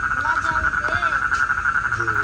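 Frogs call loudly and continuously beside a river at a fishing spot, a dense chorus of close croaking and chirping trills running throughout the short stretch.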